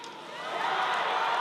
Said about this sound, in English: Listen to that crowd go crazy